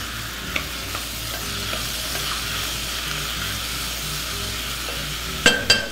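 Steady sizzling of rice and mushrooms frying in a pan, with occasional scrapes and stirring knocks, louder clatters near the end.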